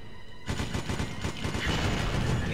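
A naval cannon fires in the video game Larva Mortus as a dense burst of rapid shots, starting abruptly and continuing loudly as an unbroken barrage with no speech.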